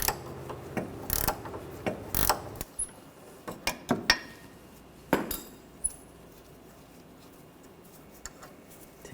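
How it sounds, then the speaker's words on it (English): A ratchet wrench loosens a 14mm nut on a front sway bar link of a 2013-2019 Ford Escape, giving quick bursts of close metallic ratcheting clicks separated by pauses, fading into sparse, quieter clicks toward the end. "Now I'm just going to switch to a ratchet wrench because it's easier. Still a 14mm."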